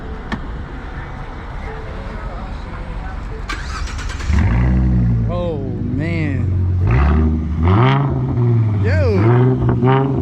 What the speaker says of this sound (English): Then I got the exhaust. You know what I'm saying? Mid pipe is X pipe, and then Flowmaster axle back. You want to hear it?